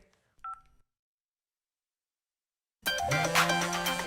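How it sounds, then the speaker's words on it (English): A cartoon phone dialing a call: a couple of brief electronic keypad tones, then a pause of silence before a louder burst of music and sound begins near the end. "Now I can give a call to Katya and tell her she left her phone over here."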